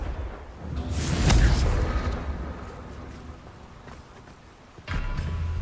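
A Confringo fire spell bursting in Hogwarts Legacy, a loud booming blast that swells and rolls for a couple of seconds, followed later by a second, sharper impact.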